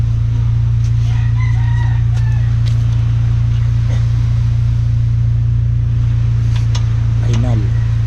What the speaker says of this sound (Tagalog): patukaw na yung manok ko ha